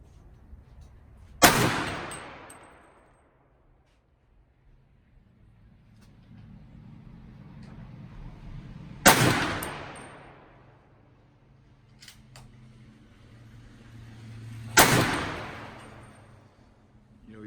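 Three loud AR rifle shots crack out at an outdoor shooting range, spaced several seconds apart, each with a long rolling echo that fades before the next; no talking.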